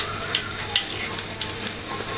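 Mustard seeds and lentils sizzling and crackling in oil in a pan with small popping bursts, close by, with a few light clinks of a utensil; no talking.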